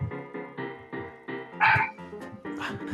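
Loud dog barks come through a voice chat during an online Rocket League match, a steady run of sharp yips and woofs about twice a second with a few higher whines and squeals mixed in.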